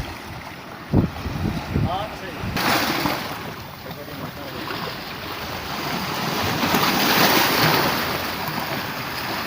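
Sea waves wash steadily against the Karachi shore in a continuous rolling roar, with wind buffeting the microphone and a few brief knocks near the start.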